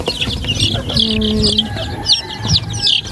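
Young quail and Rhode Island Red chicks peep in a brooding cage, bright repeated chirps up close over soft clucking and some handling noise.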